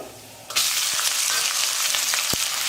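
Onions and green chillies hit a hot pan with a sudden loud sizzle. The frying hiss stays steady, broken by a few light stirring taps.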